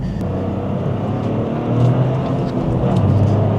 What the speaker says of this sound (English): even when throwing it into corners like this, the car feels really planted